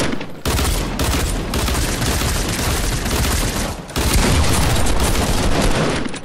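Dense, continuous gunfire from dual pistols in a multiplayer shooter game, rapid overlapping shots filling the whole stretch with only a brief dip near the start and another midway.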